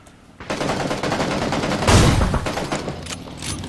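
Rapid gunfire erupts in a squad battle video game, a dense fusillade of close, loud shots rattling continuously with a heavier boom in the middle.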